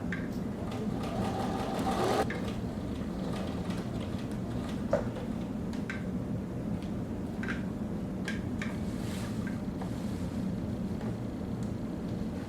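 A sewing machine stitches a pocket onto the body of an atikłuq parka with contrasting thread, its motor whirring in a steady, continuous run with a brief louder burst near the start and a small click midway.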